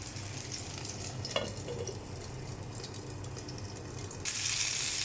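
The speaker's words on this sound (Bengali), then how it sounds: "কম আঁচে ভাজতে হবে, বেশি আঁচে ভাজলে বেগুন ভাজা হবে না" Eggplant slices fry over low heat in a small amount of oil, giving a soft continuous sizzle with faint crackles and a brief utensil knock, close and fairly quiet, growing brighter near the end.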